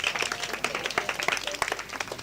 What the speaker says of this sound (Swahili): Mpigeni makofi.